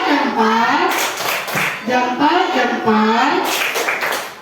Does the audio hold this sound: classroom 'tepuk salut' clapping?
yes